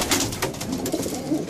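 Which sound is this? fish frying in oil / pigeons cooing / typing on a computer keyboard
pigeons cooing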